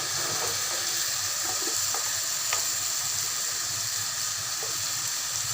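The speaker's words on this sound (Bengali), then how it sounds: "একটু নেড়ে ছেড়ে নিচ্ছি" Garlic and spices frying in a pan for an egg and potato curry give a steady, dense sizzle with occasional soft clicks of stirring, close and even throughout.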